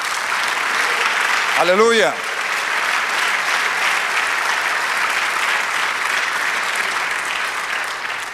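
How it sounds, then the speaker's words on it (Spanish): Church congregation applauding during a sermon, loud continuous clapping that fills the whole stretch, with a voice calling out briefly near the start. "Dale un aplauso"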